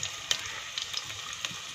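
Onion dropped into hot oil for a tinda and meat curry, a brief close sizzle with a few sharp stirring clicks over a soft hiss.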